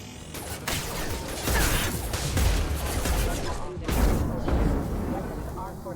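Mass Effect 2 combat gunfire, dense bursts of shots and mechanical weapon clatter filling the whole stretch with brief lulls, loud and continuous, with game voices talking over it.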